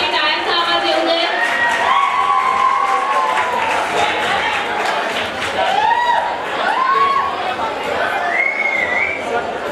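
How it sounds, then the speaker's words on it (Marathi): A college annual function crowd applauds and cheers prize-winning students, loud mixed clapping with shouts, whistles and excited voices from the audience throughout. "विजेत्या विद्यार्थ्यांसाठी टाळ्यांचा आवाज येऊ दे."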